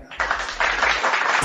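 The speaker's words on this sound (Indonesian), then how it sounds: "Tepuk tangan yang setuju." A few people clapping at an Islamic tolerance gathering in Medan during Ramadan, a short burst of rapid, close hand claps that thickens briefly before cutting off.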